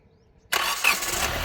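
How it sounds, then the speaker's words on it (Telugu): A 2014 Hyundai i20 Asta engine cranks and catches abruptly on the first try after a quiet moment, then runs steadily and fairly loud, close by. "సింగిల్ సెల్ఫ్లో కార్ స్టార్ట్ అవుతుంది"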